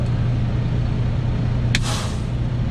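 A truck's air brake being set while parking, a single sharp hiss of escaping air bursting out over the steady low idle of the diesel engine.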